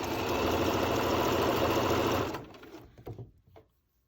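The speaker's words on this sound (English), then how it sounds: "Back stitch, and then just continue sewing" A sewing machine runs steadily for about two seconds, its rapid needle chatter stitching a cloth face mask, then stops and is followed by a few soft handling clicks and rustles.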